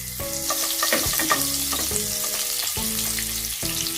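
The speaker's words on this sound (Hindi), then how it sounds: "इसमें हम 1 टेबल स्पून बटर डाल रहे हैं। इसको हमने मेल्ट कर लेना है" Butter melting in a pan of hot oil ahead of frying marinated chicken for Mughlai chicken changezi, giving a steady, fairly loud sizzle over the whole stretch with background music.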